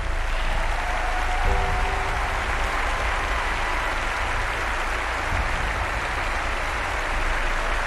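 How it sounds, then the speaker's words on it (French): Tennis stadium crowd at Roland-Garros applauds during a tribute to Rafael Nadal, a loud, continuous roar of clapping from a huge audience with no break. "On peut les raccompagner sous vos applaudissements"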